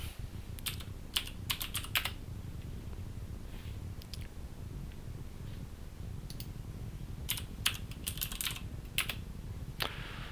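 Computer keyboard typing on a Windows 10 PC, quick bursts of key clicks in clusters with short pauses, fairly close over a low steady hum.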